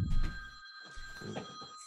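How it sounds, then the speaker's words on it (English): A telephone rings at one in the morning during a late-night live stream, a steady electronic tone continuing through the clip, moderately loud with background rustle and no speech. "The phone is ringing."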